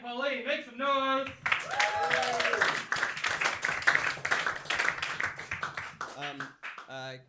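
A comedy club crowd at a roast battle claps in a moderate burst between stretches of a host's amplified talking, which opens and closes the moment.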